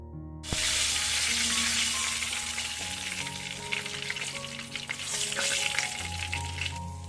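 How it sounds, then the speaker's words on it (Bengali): Pomfret fish fries in hot oil in a home kitchen, a loud, steady sizzle that starts abruptly and keeps crackling densely throughout, with a faint low background hum and no talking. "এই মাছটার এক পিট তো ভাজা হয়ে গেছে আর এক পিট ভেজে নিলেই হয়ে যাবে"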